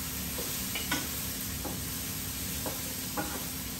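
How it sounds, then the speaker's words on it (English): Pork sinigang sizzling in a Power XL electric cooker, a constant hiss with a few scraping stirs of a utensil against the pot, close by and without speech. "I'm going to stir this up one time."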